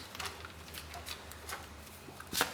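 Tarot cards being shuffled by hand in a few soft, quick riffling bursts, ending in a sharper flurry, close and quiet with no talking.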